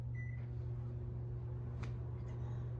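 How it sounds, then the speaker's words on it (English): A running microwave oven hums steadily and close by, a constant low drone with a short beep-like tone early and a faint click partway through. "Just the microwave."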